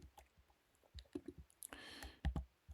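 Several sharp, quiet mouse clicks come close in an uneven sequence, with a brief soft rustle in the middle, in a quiet room.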